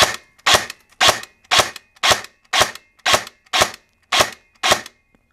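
A CYMA SVD airsoft electric gun fires ten single shots of 0.20 g BBs through a chronograph, sharp loud close cracks at an even pace of about two per second, with no talk.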